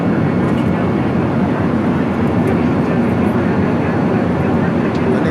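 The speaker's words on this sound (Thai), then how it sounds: "ตอนนี้เครื่องบินกำลังบินอยู่ท้องฟ้า" Inside a Nok Air airplane cabin in flight, a constant loud engine and air roar fills the space, with faint voices in the background.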